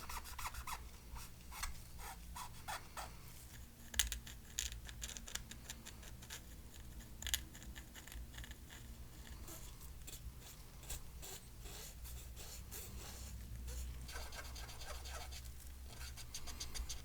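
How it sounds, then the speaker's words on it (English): A dental pick scrapes grime from a pink Nintendo 3DS XL, with quiet close rapid scratching and rasping strokes coming in irregular bursts, with no speech. "run this dental pick in here sometimes to loosen up some of this gunk that isn't coming up"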